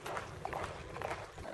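Horse hooves clip-clopping in an outdoor Cuban setting, a quick irregular run of hoofbeats at moderate loudness over a busy background.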